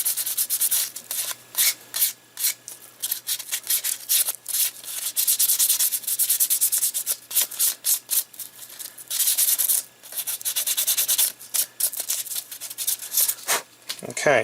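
Repeated hand sanding strokes with 500 grit sandpaper over a surface on a filament loader part, a close, steady rubbing rasp in bursts with brief pauses between passes.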